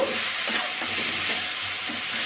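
Masala frying in a pan ahead of adding prawns for chingri pulao, a dense continuous hiss and sizzle with faint rhythmic stirring strokes, loud and close, no talk.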